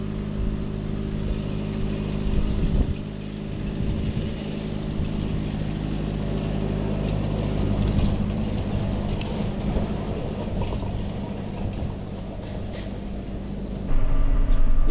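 A tractor-pulled hay tedder spreads cut alfalfa in a field, a steady low mechanical drone with rattling and clattering throughout, close and continuous, with a brief louder shift near the end.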